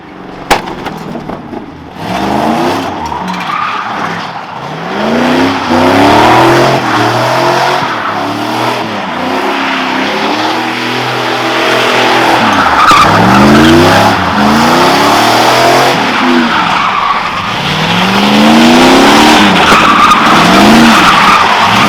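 An LS-swapped G-body car burns its tires on a wet, slippery surface. Long bursts of tire squeal run over a loud engine revving up and down, close by, with no talk.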